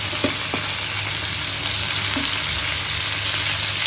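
Fish with slit green chilies frying in a pan, a steady close sizzle running throughout with a few brief stirring clicks near the start and no talk.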